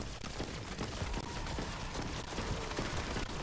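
Gunfire in a zombies video game during a Liberty Falls boss fight, a dense continuous barrage of rapid shots filling the whole moment over busy game noise.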